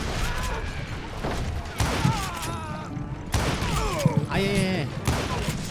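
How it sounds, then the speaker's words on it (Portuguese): Gunfire from the Western shooter Call of Juarez rattles in bursts across a crossfire fight, with a voice crying out over the shots. "Tá me atirando."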